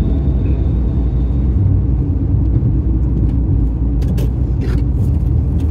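A car engine drones steadily from inside the cabin while it is driven in third gear, a constant low rumble with road noise and faint clicks, near and unbroken.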